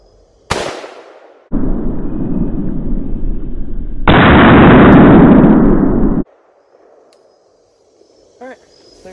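One sharp shot from an AR rifle firing a 5.56 green-tip round at aluminum cracks close and loud, followed by a long, heavy roaring wash of noise that trails off into quiet, with no talk.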